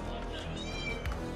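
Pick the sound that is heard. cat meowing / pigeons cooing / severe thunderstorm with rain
cat meowing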